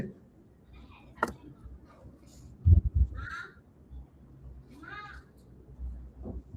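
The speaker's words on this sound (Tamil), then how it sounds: "பூனை" A cat meows a few short times at moderate distance during a Tamil quiz round, set against low background noise with a couple of thumps and brief other sounds.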